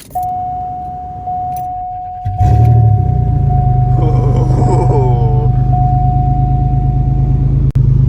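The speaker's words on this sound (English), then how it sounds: "gotta get a nice cold start in" A Ford F250 truck's engine cold-starts after a few key jingles, cranking briefly and then settling into a loud, steady rumbling idle close by, with a faint high whine over it.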